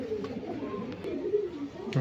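Lokhande pigeons, a breed popular in Maharashtra, give low, rolling coos close by, a steady murmur running through the whole moment with a slightly louder swell near the end.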